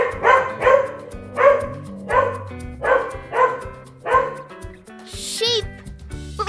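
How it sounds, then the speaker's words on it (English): A dog barks in a series of about six evenly spaced, loud, close woofs, with a backing tune running underneath and a brief sweeping effect near the end. "Dog."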